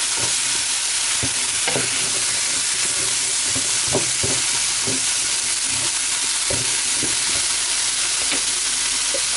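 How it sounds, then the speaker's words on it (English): Onion, carrots and garlic fry in a pan for a beef stroganoff, with a constant loud sizzle and a string of scraping, clacking stirs. "So in go my onion, carrots and garlic. Just give them a bit of a stir."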